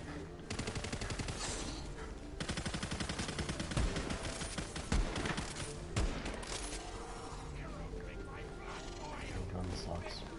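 Rapid, continuous gunfire in the Wonderlands video game, dense automatic bursts sustained throughout with occasional louder shots, while players talk over the top.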